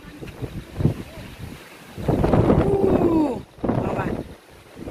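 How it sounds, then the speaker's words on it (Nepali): Gusts of wind buffet the microphone in loud, rumbling bursts, with someone talking between and over the blasts. "क्या त हावा आइरहेको रहेछ"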